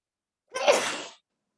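A single close, sharp sneeze bursts out for about half a second in an otherwise silent classroom-style setting.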